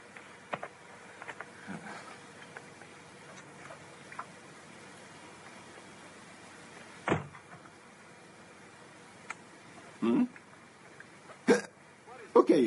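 Hiccups in a kung fu film scene: a few sharp, brief bursts scattered through the second half, the last ones closer together, over quiet background sound.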